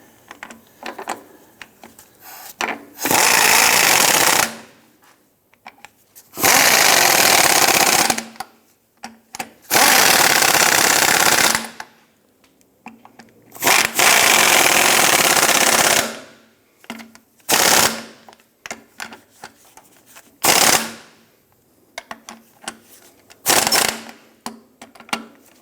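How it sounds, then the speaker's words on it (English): An impact gun tightens transmission mount nuts on a 1997–2006 Jeep Wrangler in loud, close bursts of rapid hammering, several long rattling runs separated by pauses, then shorter quicker bursts near the end. "we're gonna come back with our impact gun and we're gonna tighten them down"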